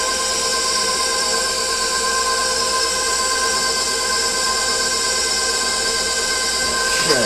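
Pasta machine rolling a sheet of linguine dough, a loud, steady mechanical hum and whine with constant tonal drone throughout, ending in a brief shift as it changes.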